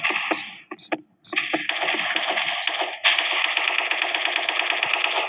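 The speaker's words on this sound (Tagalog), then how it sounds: "pag nag-gatling gun tayo, wala naman nanalo sa atin" Rapid, continuous gatling gun fire in the video game Special Force 2, a dense loud mechanical rattle of shots with a couple of brief pauses early on, then an unbroken sustained burst to the end.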